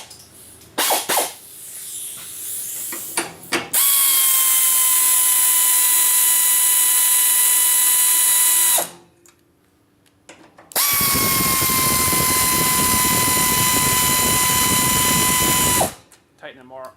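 A power drill or impact driver tightens hardware during sweeper maintenance: a few short clicks, then two long, loud, steady whirring runs separated by a brief pause, close by.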